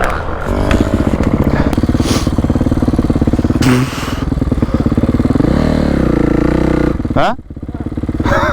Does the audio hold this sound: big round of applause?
no